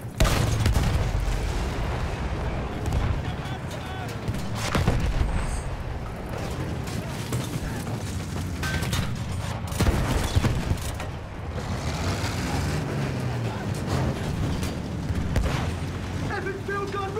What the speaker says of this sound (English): Epic field gun right there!